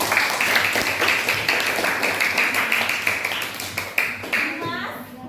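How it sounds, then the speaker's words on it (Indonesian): Classroom clapping for a student named Clarissa, a brisk, close round of hands clapping from children that runs steadily for about five seconds before thinning out, with young voices chattering underneath. "Iya, tepuk tangan untuk Clarissa."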